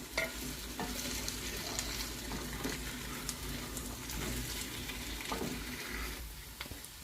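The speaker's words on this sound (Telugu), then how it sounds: "ఇప్పుడు ఈ బంగాళదుంప ముక్కలు ఇందులో వేసేసుకుందాము. ఒకసారి కలుపుదాం." Potato pieces for a mashed potato curry stirred in a pan, with repeated scraping strokes over a soft, steady sizzle, fairly quiet and close.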